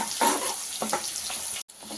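Dried red chillies sizzle in hot oil as tempering for palak pappu, a steady close crackling fry with light stirring scrapes throughout.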